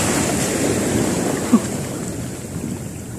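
Ocean waves at sea near a fishing float, a steady broadband wash of surf mixed with wind noise, with one brief louder splash midway and no talking.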